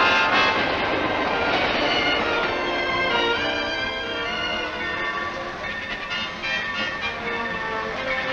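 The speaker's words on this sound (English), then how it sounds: "Air brakes gently slow our train" Passenger train in 1930s Utah rolling on rails toward Salt Lake City, a loud steady rumble with tonal whine and faint clatter, heard throughout with no voices.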